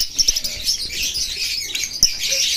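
Lovebirds chirp in quick, high, bright bursts amid a chattering flock, close and fairly loud, with a few sharper calls standing out.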